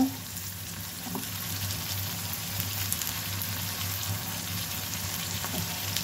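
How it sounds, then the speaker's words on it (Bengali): Onion, garlic and ginger paste sizzles in hot oil while beef tripe curry is being cooked, a steady close crackling fry with faint stirring scrapes throughout. "আমি এখানে প্রথমে পেঁয়াজ বাটা দিলাম, রসুন বাটা, তারপরে আদা বাটা"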